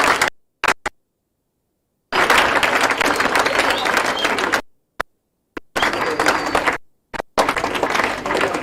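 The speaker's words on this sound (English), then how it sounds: "Please, with a big round of applause as he comes" Crowd applause welcoming a king at an 80th anniversary ceremony, bursts of dense clapping broken by abrupt silent gaps.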